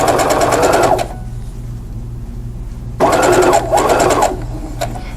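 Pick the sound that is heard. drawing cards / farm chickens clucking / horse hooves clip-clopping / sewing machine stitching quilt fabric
sewing machine stitching quilt fabric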